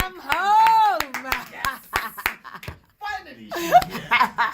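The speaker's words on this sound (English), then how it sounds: "clap hands" Studio clapping welcomes a guest on a podcast, heard as a run of sharp hand claps mixed in with talking and laughter from the people in the room.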